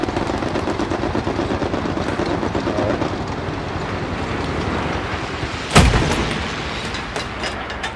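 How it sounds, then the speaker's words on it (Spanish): Gunfire in the Hell Let Loose video game, a dense rattling burst that runs throughout and then a sharp loud blast near the end, with the clatter continuing after it. "Who's shooting?"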